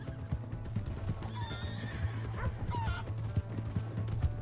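Horse hooves clip-clop steadily while a horse whinnies and neighs in a Red Dead Redemption 2 game scene, set against a dense bed of outdoor ambience.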